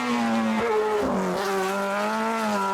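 An Alpine A110 sports car heard with a loud engine note that rises, dips sharply around a gearshift, then climbs again, with tire noise underneath, close and continuous.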